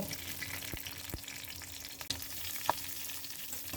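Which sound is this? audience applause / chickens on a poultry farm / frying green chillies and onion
frying green chillies and onion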